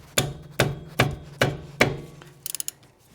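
A socket wrench works a 14mm rear brake caliper bolt on a Lexus IS250/IS300h, giving five evenly spaced sharp metallic knocks, close and loud, followed by a quick run of small ratchet clicks.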